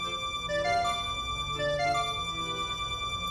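Soft in-game music from Zelda: Ocarina of Time plays a faint stepping melody of sustained tonal notes over a quiet background hum.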